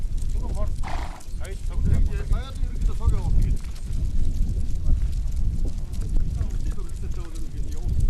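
Horses at a Naadam horse race in Mongolia, with hoof sounds and faint whinnies mixed into loud crowd and outdoor noise while people talk nearby throughout.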